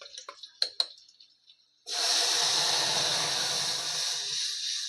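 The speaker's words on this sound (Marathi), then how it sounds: "लसूण टाकते. गॅस स्लो करते आणि फोडणी देते." Crushed garlic hits hot oil for a tempering after cumin seeds, setting off a loud, sustained sizzle and hiss after a few quieter clinks and taps.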